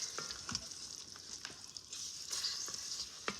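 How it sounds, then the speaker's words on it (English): Duck fajitas sizzling in an Instant Pot just after the lid comes off, a close, steady hiss of frying with occasional sharp pops and crackles, no talking. "Still sizzling."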